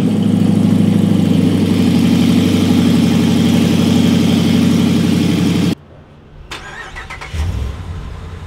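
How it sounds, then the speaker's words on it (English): A car engine running loud with no catalytic converter after it was stolen gives a steady, heavy, rough drone for several seconds. It then cuts off abruptly, leaving quieter clunks and rustling. "You will know your catalytic converter is stolen right away when you start your vehicle."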